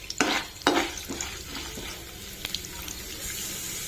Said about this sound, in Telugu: ఇవి మంచిగా గోల్డెన్ బ్రౌన్ కలర్ వచ్చే వరకు వేయించుకోవాలండి